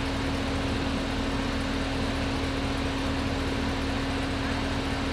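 A lowered car crawls slowly up a ramp, its engine droning steadily at low revs beneath a constant mechanical hum, close by, with no clear voices over it.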